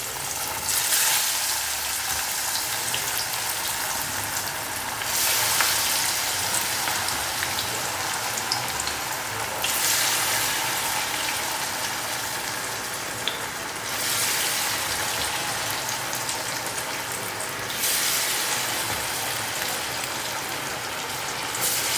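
Chana dal vadas, hand-patted lentil fritters, frying in hot oil, a loud dense rain-like sizzle that swells and eases in waves, continuous and close with no voices.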